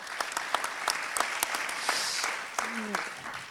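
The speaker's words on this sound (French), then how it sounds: "On peut vous applaudir également, il n'y a aucune raison." A conference audience at a national gas congress applauds steadily for a few seconds, a dense patter of claps with some sharper individual hand claps near the front, and a brief voice heard toward the end.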